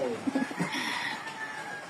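Roosters of a family flock crow faintly against a steady noisy outdoor background, with a few short rising calls near the start and a thin drawn-out cry later.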